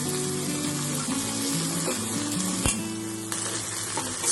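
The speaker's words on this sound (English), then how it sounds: "Stir it till it gets little more dry." Chicken idli stuffing with tomato ketchup sizzling loudly in a pan, a constant close frying hiss with scraping stir strokes and one sharp clack midway.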